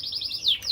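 Several birds chirp in a climate-controlled, air-conditioned breeding bird room, giving a few quick high tweets and short rising-falling calls close by, with no talk over them.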